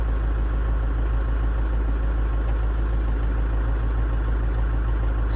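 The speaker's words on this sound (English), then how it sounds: "Okay, so I'm gonna turn on the PTO." A tractor idles with its rear PTO engaged and spinning at about 180, making a steady close low engine rumble and constant vibration with no talking.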